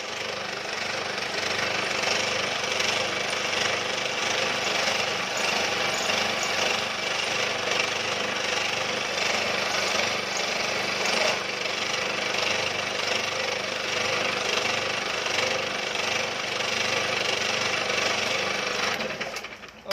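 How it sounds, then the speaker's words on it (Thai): A milling machine runs continuously at close range, finishing the weld build-up on a cracked motorcycle clamp, a dense, steady grinding chatter that holds evenly for about twenty seconds. "อันนี้ต่อไปก็มิลลิ่งเก็บงาน นะครับ ด้านล่างด้านข้างนะครับ"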